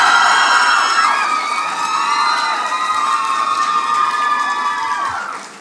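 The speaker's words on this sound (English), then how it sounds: "I like the screaming" A school debate audience in Ireland screams and cheers loudly and continuously, a dense crowd of high-pitched young voices that holds steady before fading at the end.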